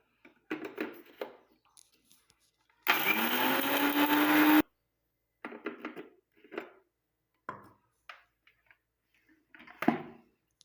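A mixer grinder runs one loud burst of about two seconds, whirring as it grinds onion and curry leaves to powder, with someone talking before and after.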